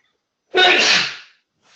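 A single loud, close human sneeze bursts out sharply and trails off quickly in an otherwise quiet indoor room.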